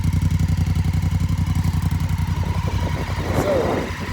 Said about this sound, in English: And here's an exhaust note as well.